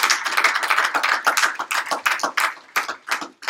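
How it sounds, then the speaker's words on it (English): Applause from an audience at a company meeting, a dense run of close, fairly loud hand claps with no talk over it, thinning toward the end. "So if we could give our district manager candidates one more round of applause"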